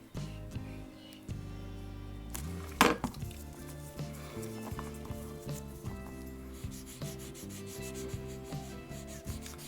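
Tyvek paper being rubbed flat onto a cuckoo clock bellows, a repeated close-up scraping and rubbing in short strokes, with one sharper knock partway through.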